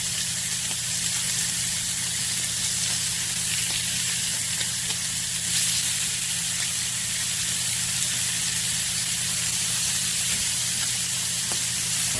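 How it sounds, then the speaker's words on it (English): Steak searing in a hot pan gives off a steady, loud, even sizzle that holds without a break, hissing like a fine spray and fizzing with fat. "And we're trying to get a nice sear to it."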